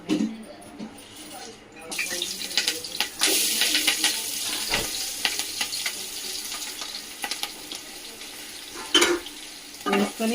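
Turmeric tossed into hot oil in a pan crackles and sizzles in bursts, with clattering stirring and scraping on top of a continuous frying hiss throughout.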